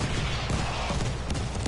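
Shelling in a video game battle with incoming artillery fire, a dense rumbling barrage of blasts throughout, heavy and continuous, with no talk.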